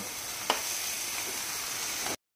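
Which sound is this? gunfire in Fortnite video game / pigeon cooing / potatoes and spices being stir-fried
potatoes and spices being stir-fried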